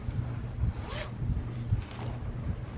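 A single quick zip of a fabric three-pocket zipper pouch opening, close and crisp, over a low background rumble.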